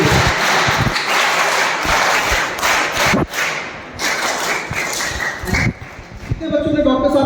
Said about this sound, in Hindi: पहले एक बार तालियां हो जाए हमारे डॉक्टर साहब के लिए